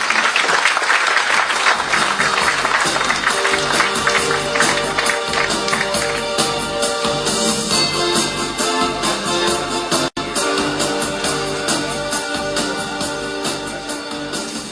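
Conference audience at a contact center event in Cebu claps loudly and continuously, a dense sustained wash of applause filling the hall with a brief cutout midway.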